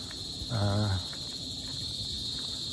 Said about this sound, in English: I hear a lot of birds and crickets and so forth.